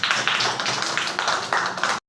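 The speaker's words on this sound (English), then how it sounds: "Clap to B team" A class of schoolchildren claps for a team, a dense burst of many hands applauding in quick uneven rhythm, loud and close, that stops abruptly after about two seconds.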